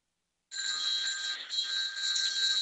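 A telephone rings steadily for about two seconds. The bright electronic tone is fairly loud and continuous, with no speech.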